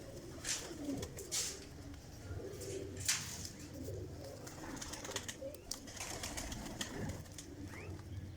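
Pigeons coo softly in low, throaty murmurs, repeated irregularly, with occasional chirps and faint wing flutters in a quiet outdoor setting.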